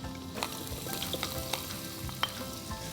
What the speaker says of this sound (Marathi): तेल गरम झाल्यानंतर ह्याच्यामध्ये घालूया बारीक चिरलेला लसूण, त्याचबरोबर चिरलेला कांदा